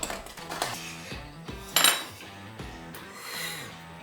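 Street corn casserole is plated from a pan with metal utensils, giving scattered scrapes and clinks of cutlery against cookware and one sharper, louder clatter midway, close up with no talking.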